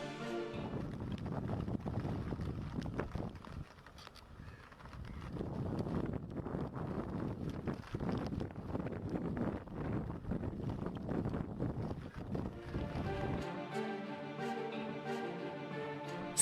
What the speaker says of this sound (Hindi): सुबह से तेज हवाओं के साथ मूसलाधार बारिश हो रही है।